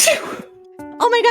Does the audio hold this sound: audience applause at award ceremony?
no